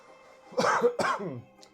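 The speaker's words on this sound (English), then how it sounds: "Just excuse my coughing." Two harsh coughs in quick succession, close and fairly loud, followed by quiet.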